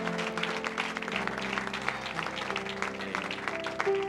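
A church congregation gives sustained applause to the Lord Jesus at an evening service in Uganda, dense steady clapping over a held musical tone.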